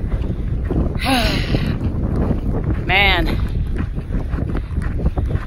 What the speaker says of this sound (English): it's windy as fuck out here. And it's a headwind, of course.